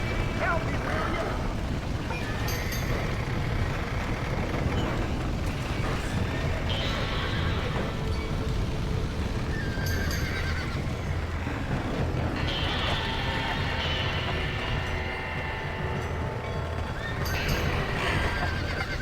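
In Red Dead Redemption, a horse neighs several times at intervals over steady clip-clopping hooves, with game ambience and voices talking throughout.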